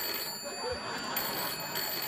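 A telephone rings on a late-night talk show set, a thin repeated electronic trill heard faintly under studio room noise.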